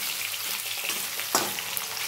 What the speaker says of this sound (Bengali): কলাটা একটু ভেজে নেব।